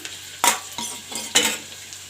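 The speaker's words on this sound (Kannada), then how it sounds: "ಇವಾಗ ಏನು ಫಸ್ಟಿಗೆ ಒಣಮೆಣಸನ್ನು ಹಾಕ್ಕೊಳ್ಳೋಣ." Dried red chillies frying in hot oil in a pan for a mixed-greens dish: two loud, close scraping stirs break through a soft sizzle, with quieter clinks of a utensil between them.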